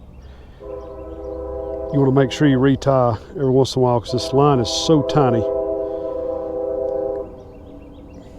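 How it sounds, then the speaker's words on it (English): A train horn sounds steadily from a distance beside a bluegill fishing spot, sustained and moderately loud for several seconds beneath someone talking. "Sorry about the train."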